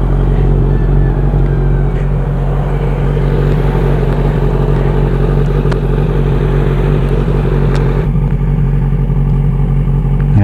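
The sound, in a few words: Kawasaki Z900 SE motorcycle revving with Mivv titanium exhaust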